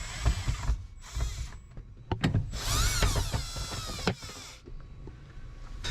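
A powered screwdriver takes out the Phillips screws holding a sun visor in a 2007 Toyota Matrix, buzzing and whirring in several close, mechanical bursts with clicks and ratcheting between them, without speech.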